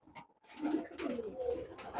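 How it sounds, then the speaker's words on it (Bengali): Imported Pakistani high-flying Salara Nildamba pigeons, loose and feeding, give soft, repeated throaty coos from close by, several calls in quick succession with brief pauses between them. "এই জায়গায় কবুতর গুলো সব ছাড়া আছে, খাবার খাচ্ছে এখানে।"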